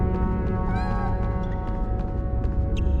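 A cat meows in a magic-themed adventure video game, drawn-out wavering cries over a dense, steady game soundtrack of music and ambience.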